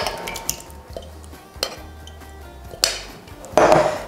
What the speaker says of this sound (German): für die Soße rühren wir die passierten Tomaten zum Knoblauch